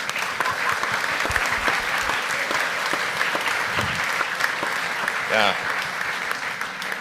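Audience applause fills a room at SpaceX headquarters in Los Angeles during an address by a speaker, steady and sustained throughout, with a brief spoken interjection over the clapping.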